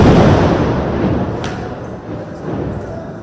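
Explosions from Israeli strikes in Gaza, a loud deep rumbling blast that decays slowly, with a few fainter thuds and pops following over about three seconds.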